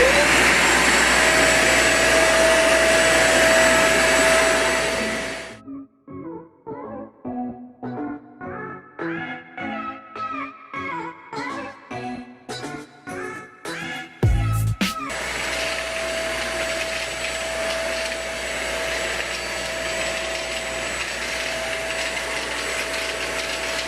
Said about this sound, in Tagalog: At this point, ready na ako i-testing yung vacuum cleaner natin